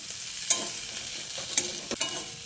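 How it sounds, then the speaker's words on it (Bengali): Okra stirred into scrambled egg in a frying pan: a steady low sizzle broken by a few crisp spatula scrapes and clicks, close and without speech. "ভেন্ডিটা দিয়ে ডিমের ভুজিয়ার সঙ্গে ভালো করে নেড়েচেড়ে মিশিয়ে নিতে হবে"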